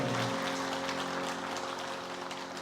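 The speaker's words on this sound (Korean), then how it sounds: "우리 서로에게 격려의 박수 하겠습니다." A church congregation claps at a Korean semester-opening worship service, a soft, dense and even patter of many hands that holds steady throughout, with a faint sustained tone underneath.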